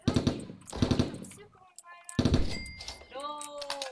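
Bursts of M16 rifle gunfire in the cartoonish shooter Bean Battles, fired in rapid volleys with game effects, under loud, excited talk.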